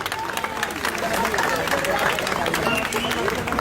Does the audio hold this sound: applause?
yes